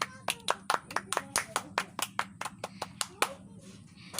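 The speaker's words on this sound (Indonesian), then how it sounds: "kita beri aplaus dulu untuk Sucitra" A small group in a teaching session claps together, a quick steady run of close, crisp hand claps that thins out toward the end, with no talking over it.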